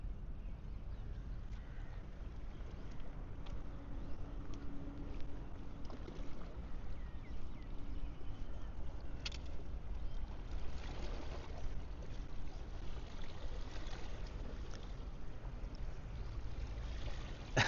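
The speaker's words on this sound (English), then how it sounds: "I can still hear a little bit of the water." Gentle seashore water laps softly and continuously at Saphan Hin Park in Phuket, Thailand, on a calm morning, a faint steady wash with occasional light splashes and no voices.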